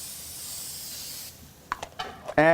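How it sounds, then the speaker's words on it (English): Nonstick cooking spray hisses steadily onto a hot grill for about a second, then cuts off, followed by a few clicks and a short tonal sound. "Joe, now that the grill is nice and hot, we're gonna add our nonstick spray."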